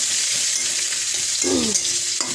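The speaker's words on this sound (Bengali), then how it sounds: "আমি এখানে আগে থেকে কুচিয়ে রেখেছিলাম কুচানো পেঁয়াজ দিয়ে একটু নাড়তেই থাকবো" Chopped onions sizzle in hot oil in a pan as they are stirred, a soft steady frying hiss with a brief scraping stroke of the spoon near the middle.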